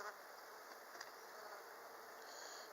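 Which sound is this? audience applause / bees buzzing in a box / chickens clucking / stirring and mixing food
bees buzzing in a box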